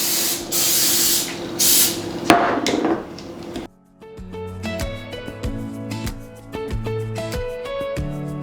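Several quick hissing bursts from a spray bottle, then quieter clinking and tapping sounds follow after a brief pause.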